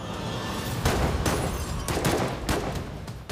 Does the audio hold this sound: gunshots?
yes